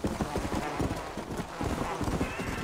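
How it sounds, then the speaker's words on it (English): A horse's hooves clip-clop in quick, uneven beats in the video game Red Dead Redemption: Undead Nightmare, fairly loud, with game noise and people talking over them. "That was another horse."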